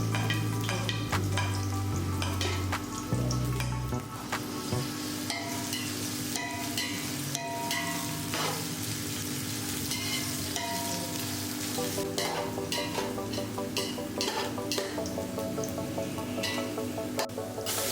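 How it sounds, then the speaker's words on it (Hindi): Sliced onions sizzle and crackle steadily in half a cup of hot oil in a pot, a dense continuous frying hiss with occasional stirring scrapes, close up and without speech. "एक और देचके में हाफ कप ऑयल गरम करते हैं। इसमें जाएगी स्लाइस्ड ऑनियन और हम इसे फ्राई करेंगे"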